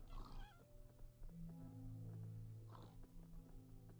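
A cat in the Minecraft video game meows near the start, faint and brief, followed by soft in-game footsteps and steady tonal game sounds.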